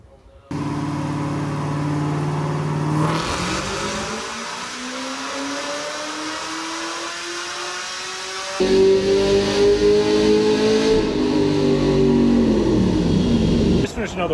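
Camaro engine revving hard on a dyno during a tuning pull, a loud, steady roar with the pitch climbing through the run, then dropping, rising again and holding high before easing off, with a pause and a shift partway through.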